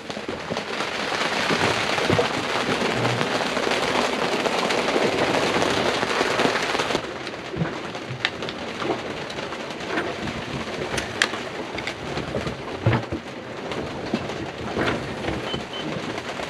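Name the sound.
rain falling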